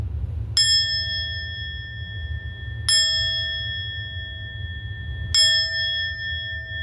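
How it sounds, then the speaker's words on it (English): A bell is struck three times at slow, even intervals, each bright ring sustaining and fading against a low background rumble. "listening to the sound of the bell"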